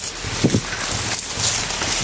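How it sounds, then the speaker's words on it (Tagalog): Heavy rain pours steadily outdoors as a dense, unbroken hiss that stays loud and even throughout, with no voices heard over it. "sobrang lakas ng ulan"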